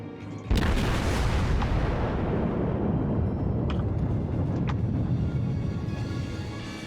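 Warship main guns fire a broadside in World of Warships, a single deep boom at the start that rolls into a long, loud rumbling decay, with a couple of faint distant pops later on.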